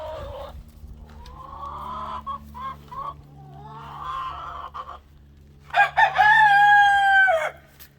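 Hens cluck and murmur softly nearby, then a rooster lets out a loud, drawn-out crow near the end over a low steady hum.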